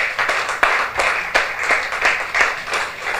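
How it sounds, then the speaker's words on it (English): An audience claps for guest resource persons at a World Cancer Day 2015 commemoration gathering in Nigeria, with loud, uneven rhythmic clapping sustained throughout and no talking. "let's clap for them"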